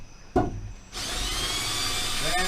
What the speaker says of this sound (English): Drilling out rivets.